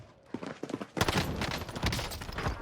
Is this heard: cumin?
no